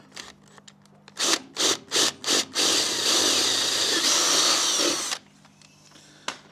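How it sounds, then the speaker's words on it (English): A power drill whirs in several short bursts, then runs steadily for a few seconds as it bores through material, close and loud. "I'll drill right through here"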